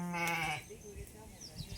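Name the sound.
sheep bleating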